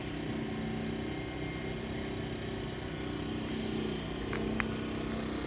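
A Matari M3800IO inverter generator runs at a steady, even engine drone that stays loud and close the whole time, with a few small clicks near the end and no one talking.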